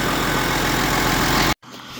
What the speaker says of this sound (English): I let the tractor warm up while I found the funnel